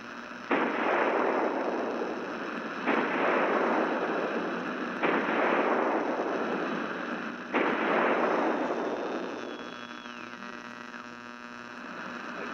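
Four booming artillery rounds in a radio drama, each a heavy blast that rolls off slowly, spaced a couple of seconds apart, followed by a rising whine under a steady hum.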